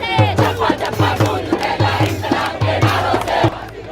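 A large protest crowd chants at Jantar Mantar in Delhi, with loud rhythmic shouts repeating in regular bursts about every half second and voices massed together up close.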